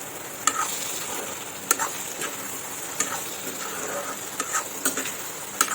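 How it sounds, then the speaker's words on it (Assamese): Chopped apple stir-fried with spices in a pan for an apple chicken dish: a steady oily sizzle runs throughout, with sharp spatula clicks and scrapes at irregular intervals, fairly close and without talk. "আৰু অলপ সময় মছলাৰ কেঁচা গোন্ধটো যাবৰ বাবে অকণমান সময় আৰু ভাজি থাকিম আমি"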